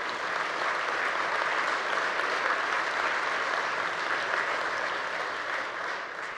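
Sustained applause from a large chamber audience at a Kansas State of the State address, a steady, full roar of many hands clapping that holds evenly throughout and fades slightly at the very end.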